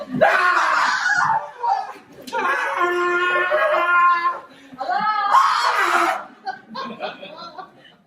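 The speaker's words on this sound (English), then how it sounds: "Well, I heard screaming." People scream in a comedy drama. Loud, strained shrieks come in several sustained bursts separated by short pauses, with laughing-like and whimpering tones mixed in.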